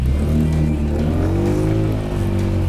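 A Killer Motorsports Sand Sniper 150 BMS go kart engine pulls away on a road, a loud close buzzing drone that rises steadily in pitch as it accelerates, with no voices.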